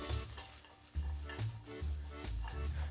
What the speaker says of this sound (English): So we have a hot pan, the guanciale goes in. That's the sound you wanna hear.